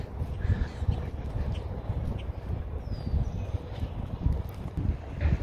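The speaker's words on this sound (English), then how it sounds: "It's a little windy here" Steady wind buffets the microphone at a waterside park, a dense low rumble that runs the whole time, with faint bird chirps high above and occasional gusty swells.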